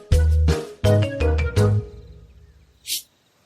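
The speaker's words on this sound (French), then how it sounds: "Ce que vous venez d'entendre, c'est un éternuement de lycaon." An African wild dog sneezes: a few short, sharp bursts in quick succession, then a faint trailing tail and one brief hiss-like puff near the end, heard alone and close.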